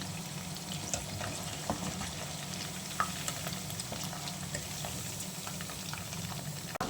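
Chicken 65 pieces frying in hot oil until crispy, a steady dense sizzle and crackle with scattered pops, close and continuous throughout.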